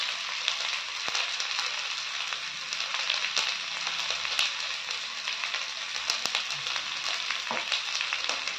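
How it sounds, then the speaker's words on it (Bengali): Potatoes fry with spices and chili powder in a pan, a steady close sizzle with scattered crackles and the occasional scrape of stirring, moderately quiet throughout. "দিয়ে সবকিছু ভালো করে আলুর সাথে কষিয়ে নেব"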